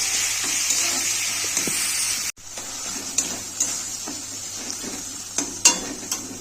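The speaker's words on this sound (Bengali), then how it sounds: "দিয়ে মশলাটাকে আমি কষিয়ে নেব।" Ginger, garlic and onion paste with spices sizzles and fries in a pan for egg biryani, a steady close hiss broken by a sharp knock and occasional scraping stirs of a spoon.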